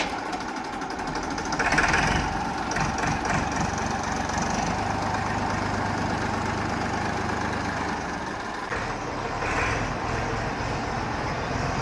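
An old TAFE tractor, around thirty-seven years old, idles in a village with a steady, close diesel rumble and a faint knocking pulse, unbroken for about twelve seconds.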